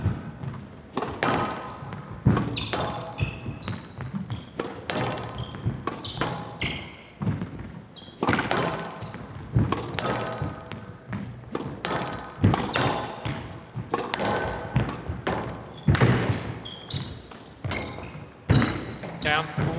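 Squash ball hits during a PSA World Championship rally between two players, with sharp irregular thuds and taps echoing around the court while commentators talk over the play.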